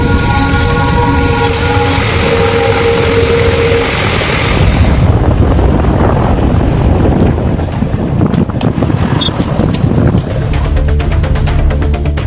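A 22-coach passenger-less train on a test run across the Pamban vertical lift bridge, rumbling steadily and loudly with a sustained horn blast at the start, wind buffeting the microphone, and rattling wagons continuing to the end.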